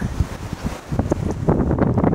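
Strong wind whips across a foggy summit above 1,600 metres on Seoraksan, gusting and buffeting close to the microphone in uneven surges that grow slightly stronger toward the end, with no voices.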